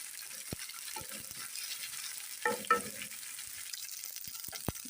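Ginger garlic paste frying in a pan for paneer bhurji, a soft continuous sizzle with a few sharp taps and a brief scraping stir midway, close and quiet with no voices.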